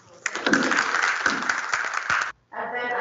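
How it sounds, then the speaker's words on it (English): Audience applause for panelists at a smart-cities technology conference, clapping loud and continuous for about two seconds before a brief gap and a short resumption. "we can give a big clap now"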